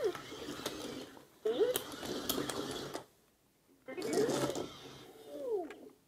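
Star Wars BB-8 Deluxe remote-control toy: bursts of electronic whirring and motor grinding with chirpy beeps, close-up, stopping and starting, with someone talking over it.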